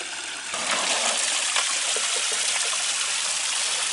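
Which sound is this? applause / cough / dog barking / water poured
water poured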